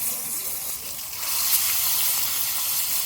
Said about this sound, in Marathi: तेल गरम झाल्याबरोबर आपल्याला तेलात सोडून देऊ